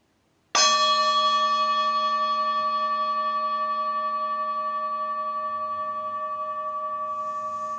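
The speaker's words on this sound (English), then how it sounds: "I'll sound the bell and we will begin." A meditation bell struck once, giving a clear ringing tone that starts sharply and then slowly fades while sustaining, heard alone in a quiet room.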